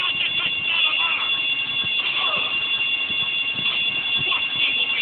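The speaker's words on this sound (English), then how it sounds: "I told you not to touch that alarm!" An alarm ringing continuously in Grand Theft Auto Vice City, a loud, steady high electronic tone held throughout over faint background rustling.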